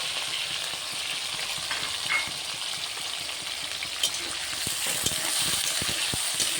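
Cauliflower and carrot fry in a pan with a steady, moderate sizzle, while a spoon stirring them adds scattered scrapes and taps that grow busier toward the end.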